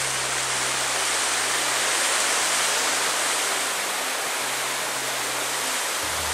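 Rushing water of a stream tumbling over rocks toward a waterfall near Sunset Point in Mandu, a steady, loud, broadband wash close by with no pause and no voices.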